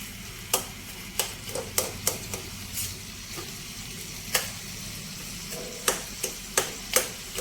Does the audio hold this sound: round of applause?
no